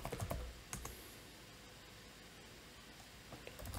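A command typed on a computer keyboard in a terminal: a few quick, faint key clicks at the start and end, with quiet steady background hiss between them.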